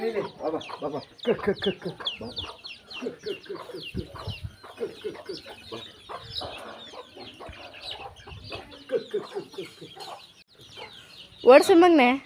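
Chickens being chased around a village yard cluck repeatedly at close range, mixed with people talking, and one bird lets out a sharp, loud squawk near the end.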